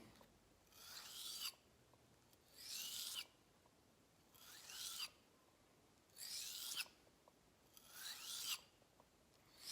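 Round knife sharpened on sandpaper, five separate long rasping strokes about every two seconds, each a close, bright scraping rub with quiet pauses between.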